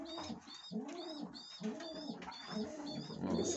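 Pigeons coo in soft, repeated rolling calls close by, with faint chirps and rustling behind them.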